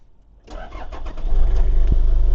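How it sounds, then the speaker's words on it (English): The diesel engine of a 1994 Toyota Hiace Supercustom Limited 4WD van cranks and catches, then settles into a loud, steady low idle rumble close by. "Fires up really nicely. I love the sound of these diesels."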